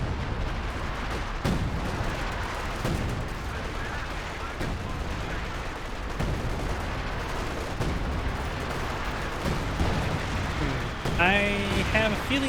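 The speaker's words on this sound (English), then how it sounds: "Artillery being brought in, major artillery" Artillery in Company of Heroes 2 booms and rumbles in repeated heavy blasts mixed with scattered gunfire over a dense battle background, while a commentator talks over it.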